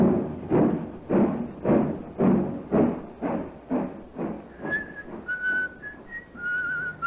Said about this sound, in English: He's whistling merrily